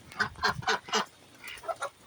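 A series of loud, nasal honking calls from nearby waterfowl, several quick squawks in a row followed by a few softer ones.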